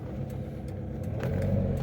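A Mercedes-Benz Vaneo with a 1.9 engine hums steadily while driving, a low, continuous mid-pitched drone that builds slightly toward the end, close and without speech.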